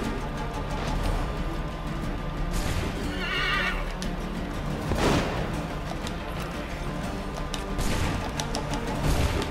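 A horse in Assassin's Creed 3 gameplay lets out a loud whinny midway, set against a busy game soundscape of clattering hooves and background noise, with no talk.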